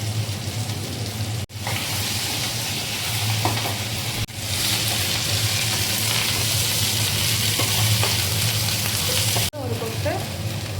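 Dried red chillies and curry leaves hit hot oil in a village kitchen, giving a loud, dense, continuous sizzle close by. A few brief dropouts break it, and faint stirring sounds run underneath.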